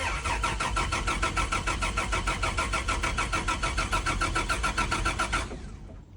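An FZ turbo 80 series car engine cranks in a fast, steady rhythmic churn for about five seconds, loud and close, then the cranking cuts off and the sound fades away.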